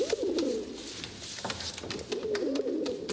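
Pigeons cooing in soft, rolling phrases, one burst at the start and another after a short gap, fairly close with faint background noise between calls.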